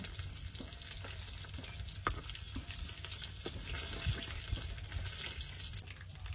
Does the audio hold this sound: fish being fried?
yes